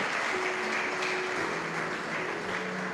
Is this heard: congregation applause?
yes